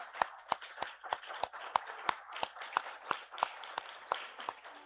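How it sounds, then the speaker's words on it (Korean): A church congregation in Korea gives welcoming applause for a visiting missionary family during a Sunday morning service, heard as sharp, rhythmic unison claps about four per second, close and distinct against a quiet background. "우리 환영의 박수 하겠습니다"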